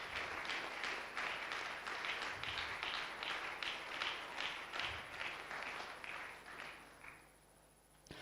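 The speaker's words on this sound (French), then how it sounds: "Tobeteli nkolo na biso maboko." A church congregation claps hands in praise of the Lord, a steady, evenly paced rhythm of many hands sounding a little distant, continuing for several seconds before fading out.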